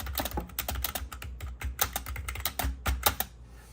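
Fast typing on an OLYGIVE 68-key wired membrane RGB gaming keyboard with a plastic body, a dense run of soft, close keystroke clacks in an uneven rhythm, fairly loud, with no talking.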